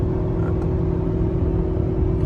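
A pickup truck towing a loaded 30k dump trailer uphill on a highway merge lane, heard from inside as a steady, smooth engine drone with a constant low hum and no revving spikes.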